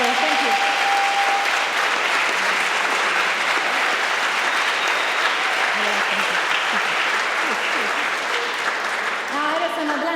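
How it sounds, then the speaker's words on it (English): Steady, sustained applause from an audience at the European Charlemagne Youth Prize ceremony in Aachen, even clapping throughout with faint voices underneath. "Please, a round of applause for her."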